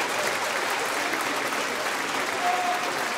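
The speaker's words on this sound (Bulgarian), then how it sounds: "Аплодисменти за маестра Караманова, разбира се." A concert hall audience at a Christmas concert by a children's radio choir gives steady, dense applause, a continuous wash of many hands clapping with no voices over it.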